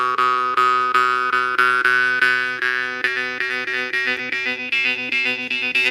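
A twangy jaw harp plucked in a steady rhythm, its droning overtones gliding slowly upward and shifting as the player breathes in and out.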